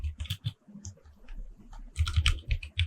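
Bursts of quick keystrokes on a computer keyboard, close and crisp, in two clusters separated by a short pause with a faint low hum, while editing in After Effects.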